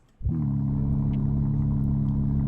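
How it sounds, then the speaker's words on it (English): A BMW M4 idles in the Roblox game Greenville, starting just after a brief quiet moment and then holding a loud, steady, deep rumble with no talking. "The M Performance cars, the M cars probably have the best idle sound."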